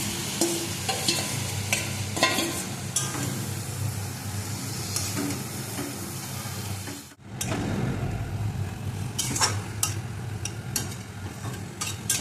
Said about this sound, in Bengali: মশলাটা কষানো হয়ে গেছে, এর মধ্যে এবার আমরা ম্যারিনেট করা মাংসটাকে দিয়ে দেব।